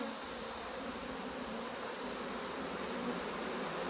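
Honey bees swarm around a broken-down hive, filling the air with a dense, steady, close buzzing drone that never lets up.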